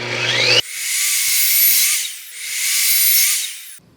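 An Evolution R255 SMS+ miter saw slices through metal round stock, giving two loud, sustained high-pitched cutting whines in a row, each rising then easing off, with a short dip between them and no talking.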